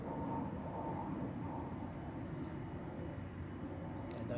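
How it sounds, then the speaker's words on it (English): An aircraft taxis at Zurich Airport, giving a steady, distant, low engine rumble and hum outdoors that holds constant and fairly faint throughout, with no talk. "I hear more taxiing aircraft"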